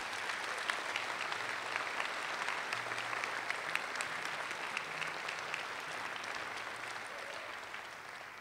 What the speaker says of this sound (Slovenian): En aplavz, seveda.